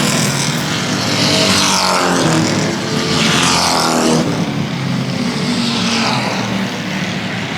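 Race cars lap the Central Texas Speedway oval, their engines a loud, continuous roar that swells and fades as the cars pass close by.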